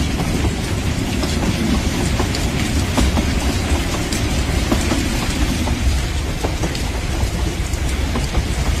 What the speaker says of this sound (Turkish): Trenimizin sesi burada derinden geliyor herhalde.